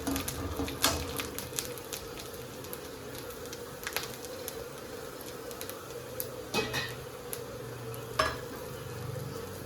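Whole garlic cloves sauté in a hot pan for a Kerala-style chicken fry, giving a steady low sizzle with scraping stir strokes and a few sharp clinks of utensil on pan, and no talk.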